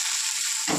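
Curry with spices sizzles and fries steadily in a pan, a close, continuous hiss with a brief stir near the end. No one speaks.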